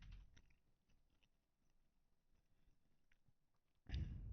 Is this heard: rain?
no